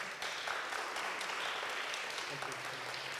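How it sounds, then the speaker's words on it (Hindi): Applause at a Friday meeting of an Asian church fellowship welcoming a visiting family, steady dense clapping that fills the room and holds throughout, with a faint voice underneath toward the end. "तालियां, या प्लीज वेलकम।"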